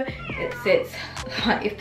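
A house cat meows in a brief plaintive cry indoors, close to the mic, overlapping with someone talking.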